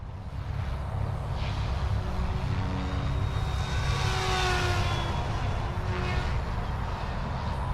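An RC helicopter, a Goosky RS4 with a Venom motor, passes low in forward flight, its steady whining rotor and motor drone continuous and fairly loud throughout, rising slightly in pitch as it sweeps by, with no voices.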